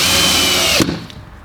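A Ryobi 18 volt lithium One Plus cordless drill drives a screw into wood and countersinks it, giving a loud steady motor whine that cuts off sharply partway through, leaving a brief quieter tail.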